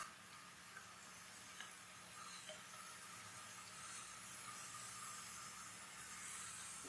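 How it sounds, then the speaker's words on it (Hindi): Potato chips frying in hot oil, a steady soft hiss and sizzle with faint scattered crackles, continuous and fairly quiet throughout. "आप देख सकते हैं बहुत ही जबरदस्त ये हमारे चिप्स फ्राई हो गए हैं।"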